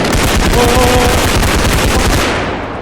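Rapid automatic gunfire in the video game Bodycam pounds out in a loud, dense burst of shots that lasts the whole stretch and fades slightly at the end.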